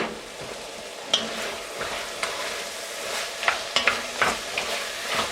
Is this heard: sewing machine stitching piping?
no